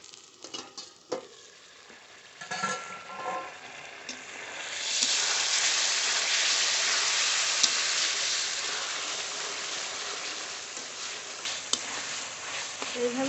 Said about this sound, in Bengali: নেড়ে নেড়ে মাংস ভেজে নেব